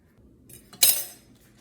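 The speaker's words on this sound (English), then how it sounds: "You need to dock the cookie dough so that it doesn't rise." Large fork jabbing into brown butter shortbread dough in a pan, a single soft scraping clink near the middle, close and fairly quiet, with no talking.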